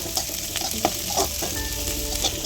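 Green beans sautéing in a hot pan for street-style Tamil egg noodles, a steady close sizzle broken by several scraping stirs of a spatula, with no talk.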